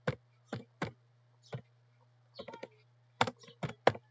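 Text is typed on a computer keyboard into PowerPoint WordArt as a short series of distinct, close keystrokes. The taps come in uneven bursts with brief pauses, alone over a faint background hum.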